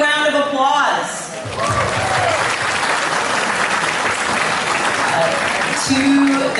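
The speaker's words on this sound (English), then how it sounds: "give yourselves a big round of applause" A community gala audience breaks into sustained applause, a dense wash of clapping that fills the room. A voice speaks over it at the start and end.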